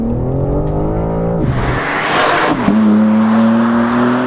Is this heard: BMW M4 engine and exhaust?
yes